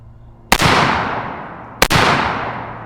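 Two sharp reports from a suppressed 16-inch 5.56 rifle fitted with a Smokey suppressor and a rifle speed gas block set to 8, about 1.3 seconds apart, each leaving a long ringing tail, close and loud with no talking.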